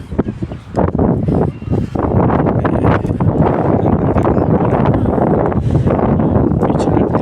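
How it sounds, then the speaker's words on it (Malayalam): Cool wind blows steadily at Marina Beach in Chennai, buffeting the microphone with a loud, continuous rushing roar that barely lets up for the whole stretch. "ഇപ്പം നല്ലൊരു തണുത്ത കാറ്റ് വീശുന്നുണ്ട്"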